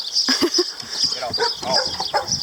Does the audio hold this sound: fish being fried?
no